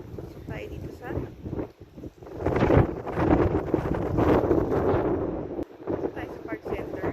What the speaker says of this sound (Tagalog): At napaka hangin.